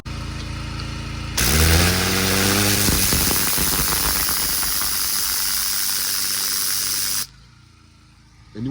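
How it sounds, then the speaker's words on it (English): A pressure washer fitted with a turbo nozzle on a short gun sprays up close in a loud, harsh, steady hiss. It kicks in abruptly, holds for several seconds and then cuts off sharply. "after you blast stuff off with the turbo nozzle"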